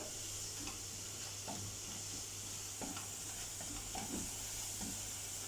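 Onion and pieces of meat frying together in a pan give a quiet, continuous sizzling hiss, broken by soft scraping and stirring taps, with no voices.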